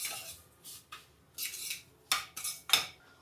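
Semolina (rava) dry-roasting in a pan for a sweet, stirred with a metal spoon: scraping strokes come in short bursts with pauses between them, close and fairly quiet, with no voices.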